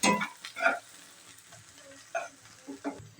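Onion and garlic frying gently in a pan, with soft sizzling and a few scraping stirs rising and fading in short bursts over a quiet background.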